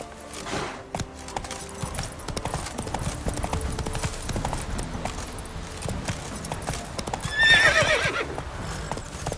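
Roach, the horse in The Witcher 3, gallops in rapid hoofbeats and gives a neigh partway through. A faint jingle of tack is audible underneath.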